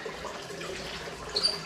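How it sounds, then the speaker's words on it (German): Water pumped in from above runs into an aquarium during a water change, a steady rushing, splashing flow that swells briefly near the end, with no talking. "Wasser läuft oben rein."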